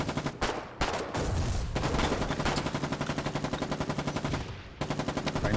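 Gunfire in a video game battle: rapid, evenly spaced automatic bursts hammer away close and loud, with a few heavier single shots at the start and a short pause near the end.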